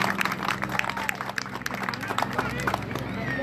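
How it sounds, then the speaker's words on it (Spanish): An outdoor festival crowd at Cerro de la Estrella applauds, scattered claps and cheers rising over a babble of voices and a steady low hum. "Un aplauso,"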